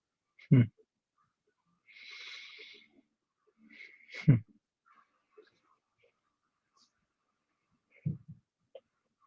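A dog snoring in rough, low snorts, three heavy breaths spaced a few seconds apart, with faint hissy breathing in between.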